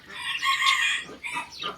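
Bantam chickens of the Tom Tam type from Khon Kaen give two loud, close, drawn-out calls, the first longer and the second after a brief pause.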